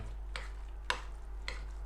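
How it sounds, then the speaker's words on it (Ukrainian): Herring forshmak mixture with onion and a spoonful of butter being stirred in a bowl, giving three soft, brief scraping strokes spaced apart over a steady low background hum. "І перемішуємо це все разом."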